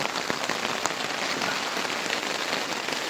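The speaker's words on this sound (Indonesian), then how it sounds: "Langsung diguyur hujan deras" Heavy rain pours steadily onto a single-layer tarp tent, a dense, continuous hiss of drops drumming close on the fabric with no talk over it.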